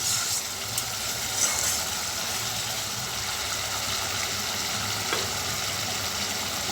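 Masala paste frying in oil in a pan until fully cooked down, giving a steady, close sizzling hiss that carries on evenly with no talking.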